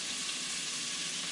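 Chili flakes sizzle in a frying pan with softened onions for bucatini all'Amatriciana, giving a steady, even hiss of frying.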